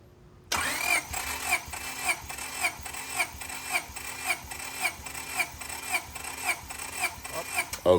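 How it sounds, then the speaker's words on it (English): A Honda B16A engine cranks over on the starter during a compression test, with a steady rhythmic chugging of about a dozen even pulses that starts abruptly and continues at moderate volume without firing. "Now here's my colleague doing the compression test while I crank up the ignition."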